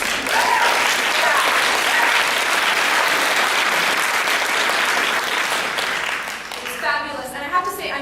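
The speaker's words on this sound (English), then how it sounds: "Give yourself a round of applause." A keynote audience at a medical resident research day breaks into sustained, dense applause that stays steady for several seconds, then thins out as a speaker's voice comes back in at the end.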